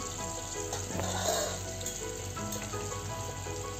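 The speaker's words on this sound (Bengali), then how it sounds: "এখানে পাবদা মাছ ছেড়েও দিয়েছি চটপট করে ভেজে নিই পাবদা মাছটা" Pabda fish sizzling in hot oil in a home kitchen, a steady dense crackle and hiss that runs without pause, with a faint background hum.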